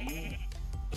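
A Minecraft sheep gives a single short, wavering bleat, loud and close, ending within a second.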